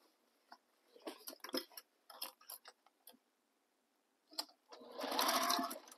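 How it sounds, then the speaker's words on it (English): A sewing machine stitches a seam on a tote bag in short, stop-start bursts of whirring, then finishes with a longer, louder continuous run. "now we're going to sew this edge with the seam allowance given in the pattern"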